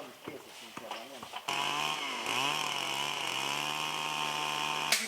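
A chainsaw starts up and runs steadily at close range, its engine note rising and holding, after a few short bursts of talk and noise in a community woodworking setting.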